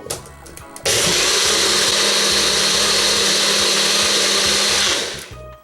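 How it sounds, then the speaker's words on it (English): A blender kicks in after a moment and whirs loudly and steadily for several seconds, grinding jerk fish paste with brown sugar, then winds down near the end. "Now we'll start blending for about a minute."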